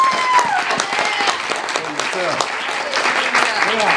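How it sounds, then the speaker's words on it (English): Congregation in a church service clapping for Randy, a dense round of applause at close range, steady and fairly loud, with voices and a few whoops mixed in. "Give Randy a hand clap"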